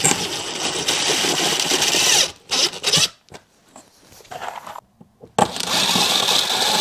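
A power drill driving screws into a rail for window insulation, with rasping, whirring bursts of the motor broken by short quiet pauses, close up.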